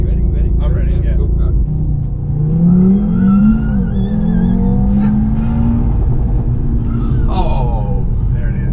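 A 2018 Audi TT RS sports car launching from a standstill, its engine rising hard through the revs with a shift and continued pull, heard from inside the cabin with voices talking over it.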